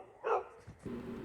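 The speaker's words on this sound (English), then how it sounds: "Right away, you can hear my neighbor's dogs barking a whole lot." Neighbor's dogs bark nearby: one sharp bark stands out, followed by a softer yip and low grumbling, all fairly faint over quiet background noise.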